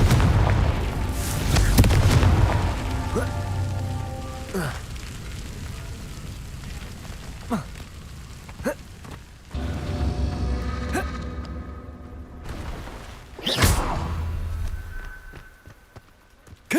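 Explosive blasts from the Confringo fire spell in the Hogwarts Legacy game, several loud booms at irregular intervals with rumbling tails, mixed with footsteps and creaks and no talking.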